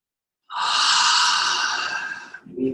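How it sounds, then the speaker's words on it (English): A single long, deep breath drawn during a guided breathing exercise in an energy class, a broad airy rush lasting about two seconds, close and clear, ending in a softer exhale with no talking. "Take a nice breath there."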